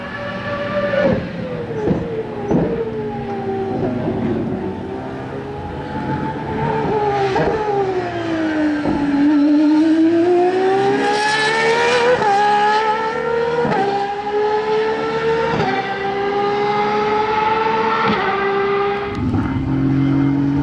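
An Aston Martin Valkyrie screaming around a race circuit, its high-revving engine rising and falling through repeated gear changes as it approaches from far off and accelerates hard, loud and continuous with no talk.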